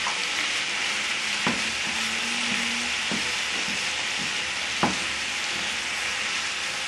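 Meat sauce sizzles steadily in a frying pan as it is stirred around, with a few soft utensil knocks and scrapes cutting through the constant hiss; no one speaks.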